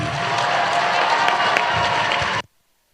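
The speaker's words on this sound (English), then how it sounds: "let's give one last round of applause for Team 60" An audience at a Wisconsin DECA closing session gives a round of applause for a team, dense clapping with some cheering, loud and steady before cutting off abruptly.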